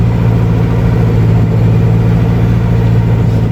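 Diesel engine of a Tayne 4 tractor with altered injection pump settings, running steadily with a deep, loud rumble and no talk over it.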